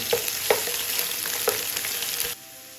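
Ginger garlic paste sautés in oil in a pan for Punjabi bhindi masala, giving a close, steady sizzle with a few sharp stirring clinks, then cutting off to near quiet at the end.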